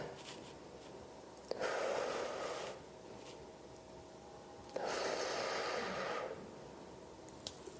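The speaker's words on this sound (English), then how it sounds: "breathing in and out" Slow, deliberate breaths held during a shoulder stretch against a wall, two long airy exhales roughly three seconds apart, close and soft with quiet pauses between.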